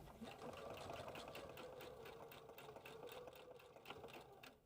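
Sewing machine running steady straight stitches in an X pattern to hold a coiled rope coaster together, a continuous close motor whir with fast rhythmic needle ticks and no talking.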